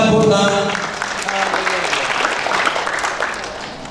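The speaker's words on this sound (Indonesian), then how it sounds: "Tepuk tangan." Guests at a wedding blessing ceremony in a GEPKIN church clap together. A voice speaks briefly at the start, then the applause carries on as a steady, moderately loud patter that slowly fades.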